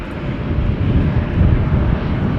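ITA airliner at Amsterdam Schiphol Airport, a steady low engine roar with broadband rumble, moderately loud and continuous throughout, some wind buffeting on the microphone.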